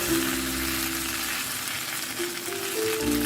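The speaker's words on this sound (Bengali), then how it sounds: "সুতরাং এটাকে খুব স্লো জালে ভাজতে হবে নাহলে পুড়ে উঠবে" A chicken cutlet coated in biscuit crumbs fries on a slow flame, a steady loud sizzle of hot oil that stays close and continuous throughout, with no voices.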